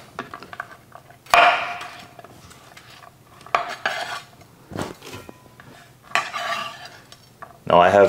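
Rustic chunks of onion dropped into a pot for a beef honeycomb tripe and bean soup, then stirred with a utensil scraping and clinking against the pot in several loud bursts separated by quiet gaps.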